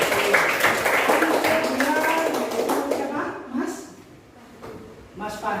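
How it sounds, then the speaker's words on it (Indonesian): Children in a sixth-grade Qur'an class in Kediri clap their hands together. The clapping is loud and busy over classroom chatter and voices, thins out partway through, then picks up again briefly at the end. "tepuk tangan anak."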